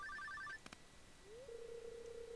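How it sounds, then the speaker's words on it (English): A telephone rings in Stardew Valley, a short run of bright chiming electronic trills followed by a couple of clicks and a rising game tone, close and clean with no voices. "Phone is ringing."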